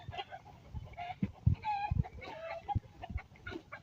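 Chicken clucking in a run of short, irregular bursts close by, with faint background noise and no talking.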